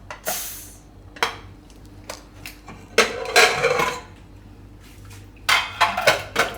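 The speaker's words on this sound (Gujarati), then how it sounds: "તો કુકર આપણે હવે ખોલી જોઈ લેવાનું." Metal pressure cooker holding dal and rice is handled and opened, with several sharp clanks and scrapes of steel spaced irregularly over a quiet kitchen background.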